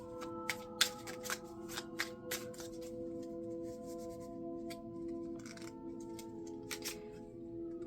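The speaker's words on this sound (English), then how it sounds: "Let's draw the tarot and see what we're looking at here for you" Tarot cards are shuffled by hand, giving a close run of crisp riffling snaps and soft papery slides, with sharper flicks bunched early and quieter shuffling continuing to the end, no voices.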